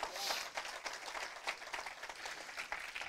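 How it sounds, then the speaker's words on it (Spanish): Church congregation clapping during a sermon on the marriage covenant, a moderately loud, uneven patter of many hands with bursts of sharper claps. "Denle ese aplauso a Jesucristo."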